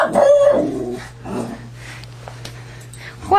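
A puppy gives one high yip at the start, then softer whimpers follow indoors over a steady low hum.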